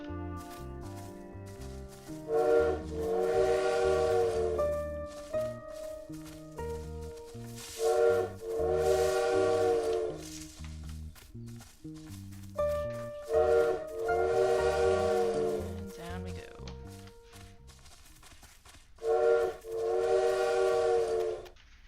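Four loud, harmonic train-whistle-like calls in a video game, each a sustained chord lasting about two seconds, spaced several seconds apart over a steady low ambient bed; the calls come from a bird imitating a train.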